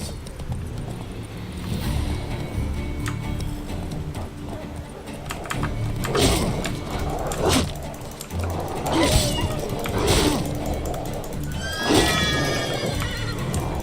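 Roach, the horse in The Witcher 3 video game, gallops with rhythmic hoofbeats and gives several loud neighs and whinnies over busy game sound, with someone talking at times underneath.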